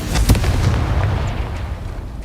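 A Confringo blasting spell detonating in the Hogwarts Legacy video game, a heavy booming explosion with a sharp burst early on that rumbles and fades over the following seconds, with no talking.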